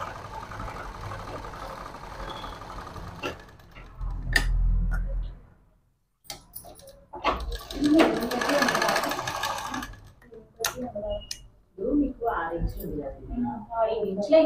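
A sewing machine stitches half saree fabric in a few loud mechanical bursts separated by pauses, close by, with a voice speaking between and over the runs.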